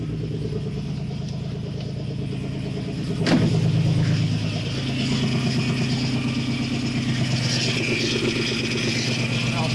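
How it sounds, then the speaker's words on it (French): A Nissan 350Z engine idles with a steady low rumble, and a whining power steering pump noise rises from about three seconds in and continues at a constant level. "Alors, en fait, c'est la pompe de DA qui fait ça."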